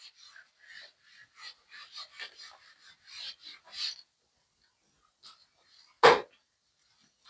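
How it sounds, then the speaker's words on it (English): Quick, scratchy rubbing strokes repeat in an uneven rhythm, soft and close, then pause before a single sharp knock rings out near the end. "Now I rub this."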